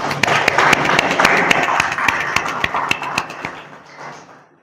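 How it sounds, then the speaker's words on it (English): An audience at a technical training session on weather model execution claps in a close burst of many handclaps that thins out and fades to quiet. "Okay, clap for yourself."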